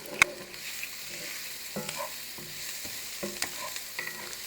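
Vegetables for a Southern mixed bean casserole sautéing in a pan with a little broth, giving a steady low sizzle broken by occasional clinks and scrapes of a stirring utensil against the pan.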